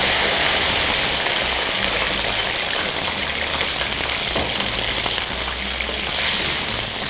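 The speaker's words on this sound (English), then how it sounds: "we're gonna fry these well past the point of golden" Garlic frying in hot oil past golden, a steady dense sizzle and crackle with a constant bubbling hiss throughout, close and fairly loud with no talk.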